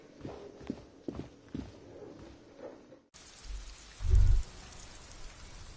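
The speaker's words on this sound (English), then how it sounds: "All around you, rain falls on the great city of Revachol." Steady rain hisses across a broad city soundscape in a video game, with scattered drips and a brief low rumble partway through.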